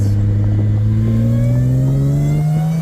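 A car engine revs up under acceleration, its steady drone climbing gradually in pitch over a few seconds, close and loud, with no talking.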